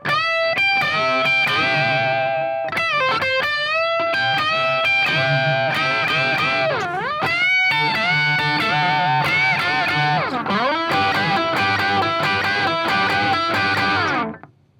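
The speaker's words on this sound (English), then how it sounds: "it's mostly bends, kind of country-style-y bends, but played with a lot of distortion" Heavily distorted electric guitar playing a lead riff full of country-style bends, loud and continuous, with sliding pitches rising and falling throughout.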